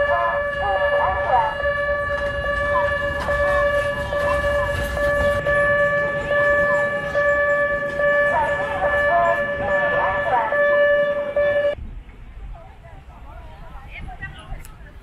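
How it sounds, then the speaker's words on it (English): The steam train at Gucun Park in Shanghai sounds a loud, sustained multi-tone whistle over a rumbling run for about twelve seconds, then the whistle cuts off and leaves quieter rolling noise. "So there it goes, the steam train of Gucun Park."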